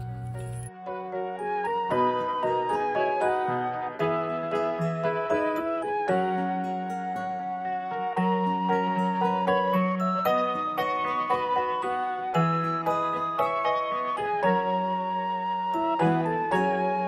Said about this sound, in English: One more bell.